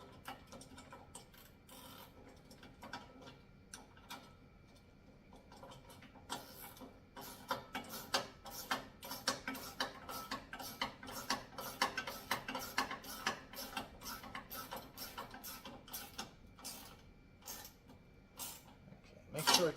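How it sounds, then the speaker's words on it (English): Bolts on a wall-mounted pull-up bar are tightened with a ratchet. Its quick, quiet clicking comes in steady bursts, slow at first and then faster for a long stretch. "Let's tighten this down."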